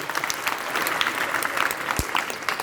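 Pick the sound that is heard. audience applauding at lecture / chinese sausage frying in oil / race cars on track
audience applauding at lecture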